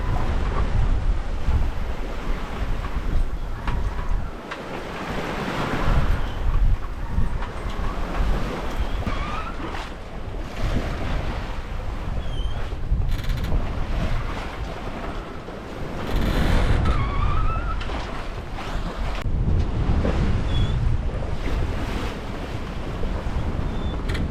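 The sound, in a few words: wind and waves while sailing a boat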